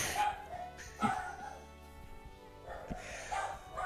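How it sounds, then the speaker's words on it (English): Dogs bark and yip in a few short bursts, fairly close, with some whimpering between them. "The dogs are going crazy."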